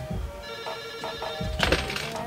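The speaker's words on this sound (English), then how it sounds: "I was working hard as ever when the phone rang." A telephone rings indoors in short repeated electronic bursts, fairly loud and close, with a thump near the end.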